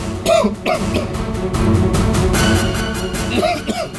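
A person with a fever coughs a few times, with short harsh bursts near the start and again near the end, over a low background hum.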